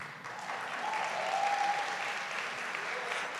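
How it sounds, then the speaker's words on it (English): Audience at a student affairs awards ceremony giving polite, steady applause that swells slightly in the middle and then holds, a soft indoor wash of many hands. "you can clap a bit better than that"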